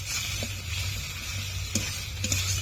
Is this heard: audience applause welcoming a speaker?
no